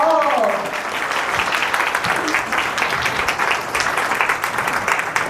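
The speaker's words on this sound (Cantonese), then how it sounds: "以下咧請我哋用熱烈嘅掌聲歡迎張師" A crowd in a hall breaks into sustained, dense applause that holds steady from start to finish, with a voice speaking over the first moments.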